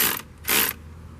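Two short bursts of ratcheting from a wrench tightening a car battery terminal connection, close and distinct with a brief pause between them.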